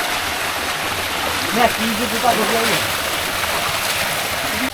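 Water rushes steadily at a waterfall beside the Mirinja hill trekking trail in Mirinja Valley, a broad, continuous wash under people talking nearby.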